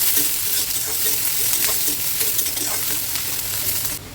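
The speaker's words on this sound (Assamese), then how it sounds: "এতিয়া পিঁয়াজখিনি ভালদৰে ভাজিব লাগিব।" Chopped onions with green chillies sizzle steadily in hot oil left over from frying eggs, with occasional stirring scrapes in the pan, loud and close, and no talking.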